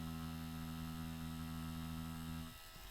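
A tattoo machine running with its needle working, a steady loud electric buzz for about two and a half seconds that then cuts out.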